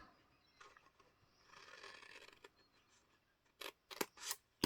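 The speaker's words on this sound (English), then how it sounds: "you're going to cut on the outside of the score line here" Scissors cut paper along a score line, quiet rustling and faint snips giving way to three or four sharp, close, crisp cuts near the end, with no talking.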